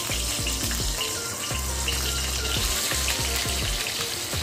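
Two tangra catfish, about 200 grams in all, fry in hot oil with a steady, close sizzle broken by small pops and spatters throughout.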